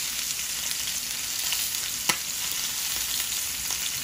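A ribeye steak sizzles in a pan over medium heat, a loud steady frying hiss with small pops throughout and one sharp crackle near the middle.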